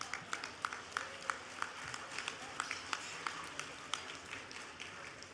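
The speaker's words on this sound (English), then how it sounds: "give them a round of applause" A banquet hall audience at an awards gala claps for the dinner staff, a faint, thin patter of scattered hand claps at a distance that fades toward the end.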